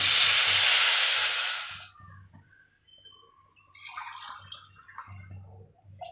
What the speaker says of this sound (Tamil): நான் இப்போ 300 கிராம் தண்ணி ஊற்றிருக்கேன்.